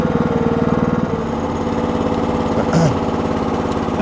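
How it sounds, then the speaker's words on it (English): A Red Rock/Trencherman mini towable backhoe engine idles steadily and close by, a continuous mower-like putter with a brief louder rattle near the end. "I've only got the engine idling right now. I'm not revving it up at all."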